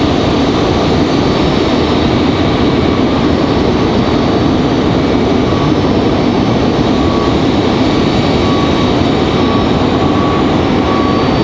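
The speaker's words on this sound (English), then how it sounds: "Republic Airways 4804 coming in from JFK" A Republic Airways regional jet arriving from JFK at Raleigh-Durham International sends a steady, loud roar of engine noise across a busy airport, continuous and broad without letup, no voices over it.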